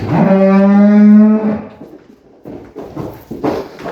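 A young dairy cow on a farm gives one long, loud, low moo that fades after about a second and a half, followed by quieter shuffling farm noises.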